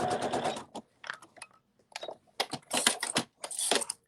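A sewing machine stitches backward in short stop-start bursts of rapid mechanical clatter, close and fairly loud, separated by brief silences.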